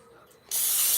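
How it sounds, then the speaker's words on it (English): I Can't Believe It's Not Butter cooking spray hissing from the can in a kitchen while bacon is about to cook, a sudden loud steady spray bursting in after a quiet moment. "I can't believe it's not butter spray."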